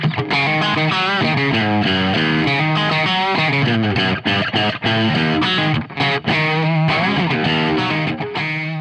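Electric guitar played through a NUX amp-in-a-box pedal dialed for a classic 70s LA tone: a loud, continuous run of overdriven melodic lines and chords with chorus-like shimmer, sustained notes and brief dips between phrases, with no voice.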